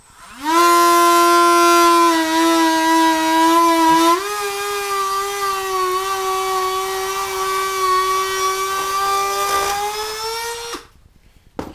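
A power tool grinds the coating off the steel pan of a K9 XTreme Jr. trap down to smooth metal, a loud steady high-pitched whine lasting about ten seconds that drops slightly in pitch partway through before cutting off.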